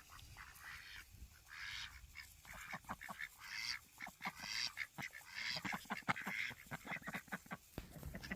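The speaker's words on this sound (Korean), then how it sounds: "오리들 뿐만 아니라 닭까지 몰고 다니는 일리의 기묘한 생활" Repeated duck quacks, some honking goose-like calls mixed in, come in irregular bursts from a nearby flock over a quiet outdoor background.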